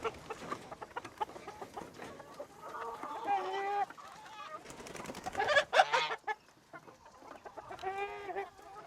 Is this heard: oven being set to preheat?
no